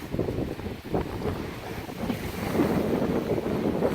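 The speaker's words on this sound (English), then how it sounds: "Windy." Strong wind buffets the microphone at Bear Lake, a continuous low roaring rumble with gusts that swell louder toward the end, and no voices.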